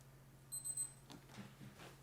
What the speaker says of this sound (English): so I'll do it on my little stopwatch